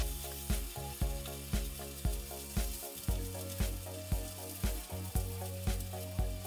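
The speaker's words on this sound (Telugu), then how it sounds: "ఇప్పుడు కొంచెం అల్లం వెల్లుల్లి పేస్ట్ ఫ్రై అయింది" Ginger garlic paste sizzles in a pan while an eggplant curry is cooked, a steady close frying hiss punctuated by regular soft knocks of stirring against the pan.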